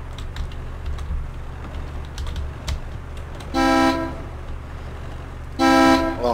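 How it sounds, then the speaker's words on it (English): Computer keyboard keys clatter in quick, uneven bursts during a Foxhole game session, then two loud, sustained vehicle horn blasts sound from the game. "I'll start typing it out in chat"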